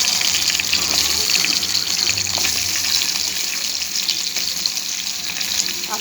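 Potatoes dropped into hot oil with onions in a pan, giving a loud, steady, dense sizzle that carries on without a break from start to finish.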